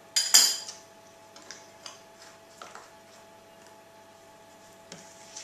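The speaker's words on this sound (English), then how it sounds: "Give that a whole lot of stir, like so. Make sure it's thoroughly mixed." A spoon stirs chocolate and banana cake batter in a bowl, giving a few sharp clinks and scrapes at irregular intervals, fairly quiet and with no talking.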